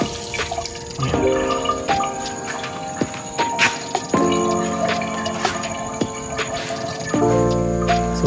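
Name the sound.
water running from a faucet in a campsite restroom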